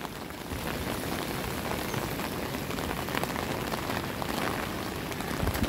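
Rain falls on a wet day in Tainan, Taiwan, making a continuous soft hiss with scattered droplet patter, fairly quiet and even throughout.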